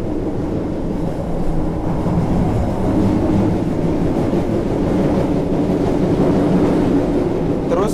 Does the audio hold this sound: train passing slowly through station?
yes